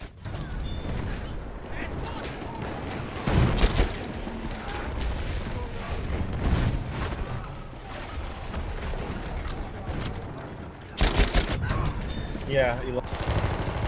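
Rapid bursts of gunfire from Battlefield 1 gameplay, with sharp shots and automatic volleys peaking sharply around four and eleven seconds, under a steady game soundscape and occasional talk from a player.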